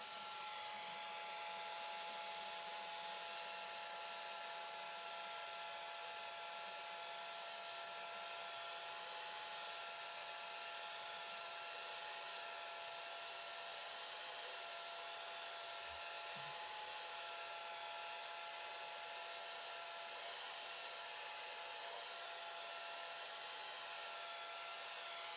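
A hair dryer blows steadily and continuously over a watercolor painting of red apples, a constant airy whir with a fixed motor tone held at an even level throughout, with no talking.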